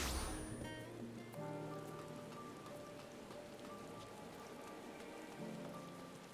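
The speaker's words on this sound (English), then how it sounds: "Yep, still raining." Steady rain patters on surfaces in Final Fantasy XIV, a soft continuous hiss with scattered droplets, mixed with calm tonal game music and no voices.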